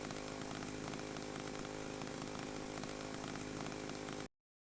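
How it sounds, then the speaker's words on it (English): A chainsaw idles in a steady, unbroken buzzing drone, loud and close, that runs without change for over four seconds and then cuts off abruptly into silence. "I hope you guys are enjoying this chainsaw idling"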